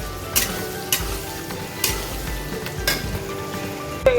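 Tomato tipped into frying masala in a pan, a continuous close sizzle broken by several sharp spoon scrapes and knocks as it is stirred, with no talk.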